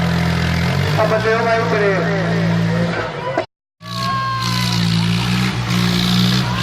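A tractor engine revs loudly during stunt driving, a steady heavy drone under excited shouting, cutting out briefly midway before resuming.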